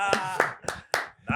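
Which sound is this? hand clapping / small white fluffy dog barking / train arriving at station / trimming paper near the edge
hand clapping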